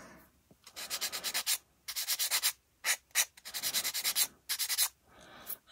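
A medium grit sander is rubbed by hand over a 1/48 scale HK Models B-25J model kit part in quick bursts of short back-and-forth scratchy strokes, close and clear, separated by brief pauses.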